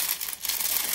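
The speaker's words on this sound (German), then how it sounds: "Ich nehme dieses Papier und raffe das in meinen Fingern" Paper crinkles and crumples between fingers while being gathered to form a paper rose for decorating an old vase, a dense, close rustling that lasts about a second.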